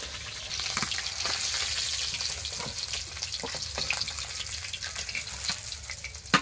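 Fish pieces frying in hot oil for a Bengali curry, a steady broadband crackle and hiss with occasional sharper pops and clinks throughout, fairly close and alone with no talk.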